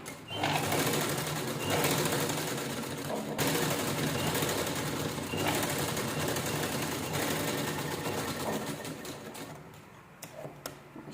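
Sewing machine stitching a metal chain onto a fabric purse, a loud steady whirring run of rapid needle strokes, close by, with a few short breaks and a quieter stop near the end.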